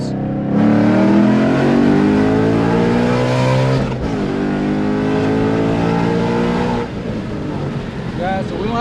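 A Ford Mustang engine revs hard to high RPM, its rising tone climbing steadily, dropping briefly and climbing again in loud, close bursts, with voices talking over it.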